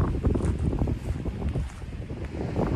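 Strong wind buffets the microphone in a steady, heavy rumble, with no voices present.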